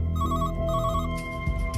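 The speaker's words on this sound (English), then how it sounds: "But soon another call comes in from the same phone." A telephone rings in a steady electronic trill, loud and close, with no voices over it.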